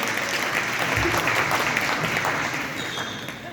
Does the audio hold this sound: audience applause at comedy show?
yes